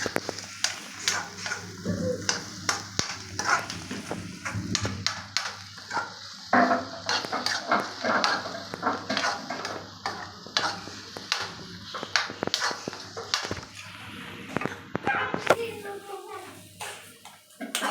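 A spoon scrapes and clatters as egg fry is stirred in a pan, with light sizzling and repeated metallic taps, while someone talks over it.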